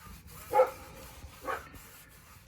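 Two short dog barks, about a second apart, at moderate distance over a low background hum.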